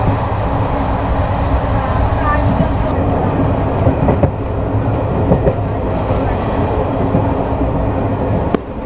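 Trichy to Trivandrum intercity train rolling along the rails, a loud continuous rumble with rhythmic clicks of wheels over rail joints and occasional sharp knocks, heard close from onboard.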